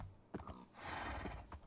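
A horse in the block-building game TerraFirmaCraft neighs in a short, bright whinny with a couple of hoof clops, faint and close, no talking.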